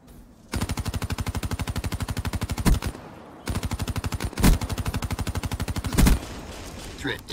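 Rapid automatic gunfire from the video game Black Ops 3, loud bursts of steady repeating shots separated by short pauses and a few heavier impacts.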